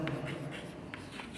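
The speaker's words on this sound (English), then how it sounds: "I will write find" Short scratchy strokes of writing on a board during a maths lecture, a few brief bursts close by over a low steady room hum.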